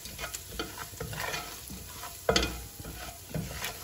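Chopped onion, garlic, ginger and turmeric fry in a pan, with a soft continuous sizzle under repeated spoon-scraping stirs and one sharper clatter near the middle.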